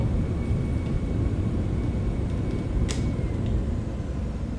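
Cessna Citation X business jet decelerating on landing rollout with speed brakes and thrust reversers deployed: a steady, loud broadband roar from inside the cockpit with a few faint clicks, no speech.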